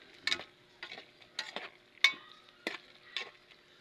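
Food simmering in a pot and being stirred, with quiet scraping and clinking strokes coming every half second or so over a faint bubbling background.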